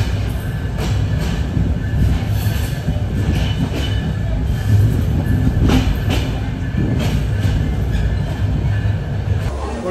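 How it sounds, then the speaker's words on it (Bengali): Train pulling into Joydebpur station, a steady loud rumble of rail cars rolling over the tracks with faint clatter and high metallic whine throughout, close by and continuous. "আমাদের ট্রেন এসে পৌঁছালো জয়দেবপুর স্টেশন"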